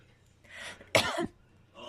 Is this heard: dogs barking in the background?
no